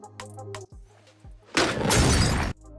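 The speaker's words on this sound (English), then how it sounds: "the father heard the lamp crashing" A lamp crashes and shatters in a quiet house in A Quiet Place, a sudden loud burst of breaking glass lasting about a second after a few soft thumps and low rumbling.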